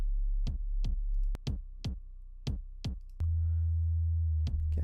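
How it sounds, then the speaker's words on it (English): A deep, distorted 808 bass synth built in Reaktor booms in long sustained notes under sharp rhythmic drum hits, loud and upfront with no voices. "Okay, I can hear some distortion."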